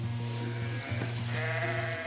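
Merino d'Arles sheep bleating close by in a short, loud, wavering call that breaks briefly and resumes, with no talk.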